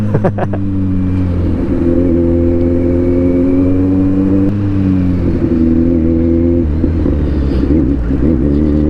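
A Kawasaki Z900 big bike hums steadily while being ridden to work, its engine drone loud and close with a couple of brief pitch shifts as the rider changes throttle, no voices.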